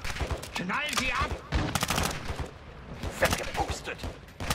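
Rapid gunfire bursts crackle through a Call of Duty Modern Warfare 2 match, with sharp repeated shots and clattering action sounds mixed with game audio and a faint voice.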